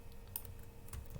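Computer keyboard keys pressed for a copy shortcut, a few soft clicks in a quiet room over a low background hum, heard alone with no talk.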